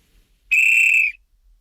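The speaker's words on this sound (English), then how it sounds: "what you actually heard was this whistle, but attenuated so that its output level would not be harmful to your ears" A single loud whistle blast passed through smart industrial hearing protection that limits its level, a steady bright tone lasting about half a second after a short quiet gap, then silence.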